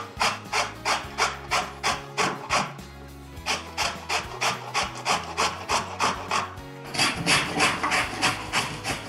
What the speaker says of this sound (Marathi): साल काढून घेतली की कैरी आपण छान किसून घेणार आहोत.